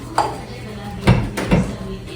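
Spoon clinks and scrapes lightly on a hot pan while oil is spread over a flipped spring onion paratha, three short distinct knocks against a quiet background.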